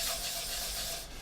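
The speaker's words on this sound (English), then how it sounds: "It's not rolling up, it's physically sanding." Dried Stynylrez surface primer being physically sanded, a steady close abrasive rubbing hiss that holds level and eases off slightly at the end, with no talking.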